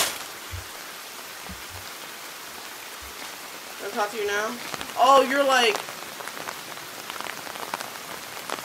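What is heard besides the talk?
rain hitting surfaces in a video game, The Bathhouse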